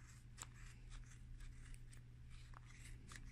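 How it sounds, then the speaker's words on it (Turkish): Scissors snip through yarn wound on a pom-pom maker, a run of soft, quick, close cuts at low volume with no talking. "Burayı kesiyorum."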